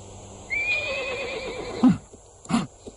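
A horse whinnies in a long, high, wavering call that trails off, followed by two short, louder snorts or grunts, close by on a farm with no voices.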